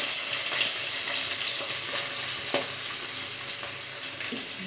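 Chopped onions fry in hot oil in a pan, giving a loud, steady, close sizzle with faint occasional stirring clinks throughout.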